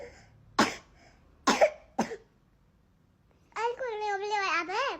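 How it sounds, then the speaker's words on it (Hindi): A small child coughs three times in quick, sharp bursts, close and clear, followed by a pause and then a voice speaking. "चलो खांसी हो रही है ना,"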